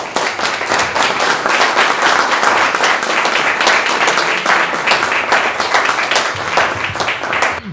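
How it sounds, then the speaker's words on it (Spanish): Loud, vigorous applause from an audience at a book presentation, with many crisp individual claps in a continuous, close and energetic wash. "Le damos un aplauso a Marcelo"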